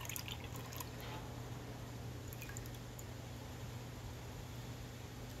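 Clam liquid drains from a 10-ounce can, a soft steady trickle and drip under faint background hiss, close and quiet, with no talk.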